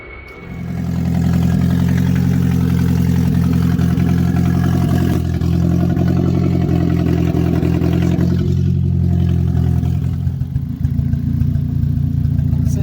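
A swapped engine in a 2008 Toyota Prius starts and runs steadily at idle, a loud, deep rumble with a rough, throbbing pulse, close and continuous throughout, exhaust not yet hooked up.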